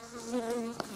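Honeybees in a queen bank make a close, steady insect drone with a wavering pitch, lasting about a second, with one brief tap partway through.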